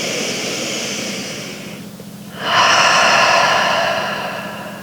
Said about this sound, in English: So we'll be inhaling through the nose, out through the mouth